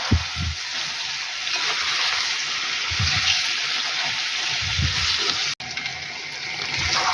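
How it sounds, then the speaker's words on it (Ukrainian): Steady sizzling and hissing of carrots frying in a pan, with soft low stirring bumps now and then and a brief dropout near the end. "хай посмажиться морква"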